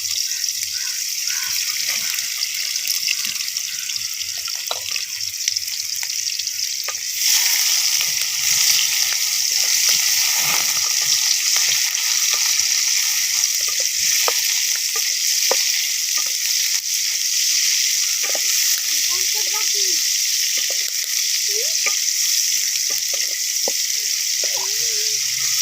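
Onions frying in hot oil for sarson ka saag, a loud, dense hiss of sizzling that swells after the first few seconds and holds steady with faint crackles.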